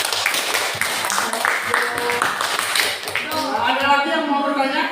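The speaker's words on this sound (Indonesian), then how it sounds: "kasih tepuk tangan dulu." A group claps at a university session in Jakarta, brisk clapping mixed with overlapping voices throughout, fairly close and steady for a few seconds.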